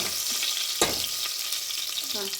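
Homegrown curry leaves fry in hot oil, a dense steady sizzle heard close with a sharp crackle burst partway through and light stirring clinks, no voices over it.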